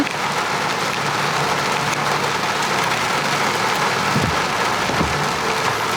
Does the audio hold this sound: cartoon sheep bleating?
no